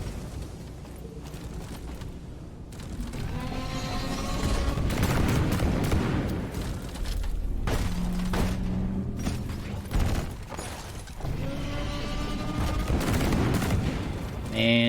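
Gunfire from the boomstick shotgun in Deep Rock Galactic, heavy blasts and bursts of shots recurring through a busy fight, with creature cries and a voice talking at times underneath the action.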